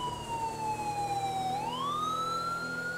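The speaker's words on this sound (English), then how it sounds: "I'm sure he can hear our siren." A police car siren in GTA 5 with the LSPDFR mod sounds close and loud, one long wail that falls slowly and then rises again over a low engine rumble.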